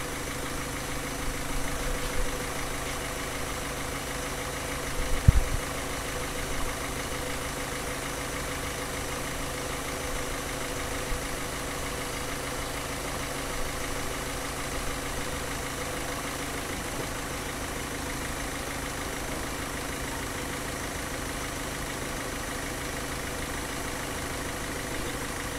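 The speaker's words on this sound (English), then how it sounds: "the noise of the engine is" Car engine idling during fuel injection cleaning, a steady even hum that holds for a long stretch with a single brief knock partway through and no voices.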